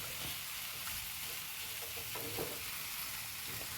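A banana mixture being stirred with jaggery syrup in a pan, giving a steady soft scraping and gentle sizzle throughout with no voices.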